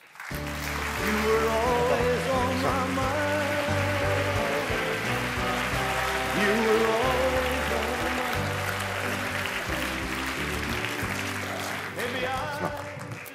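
At the Magritte awards ceremony, a large audience gives Nicolas Bedos a steady, sustained round of applause that fills the hall, clapping evenly throughout before fading at the end.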